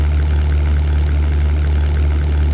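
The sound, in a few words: Bf-109 aircraft engine in video game European Air War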